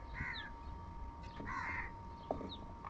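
Several crows caw outdoors in short, harsh, nasal calls, two or three bursts spaced apart at moderate distance over low background noise.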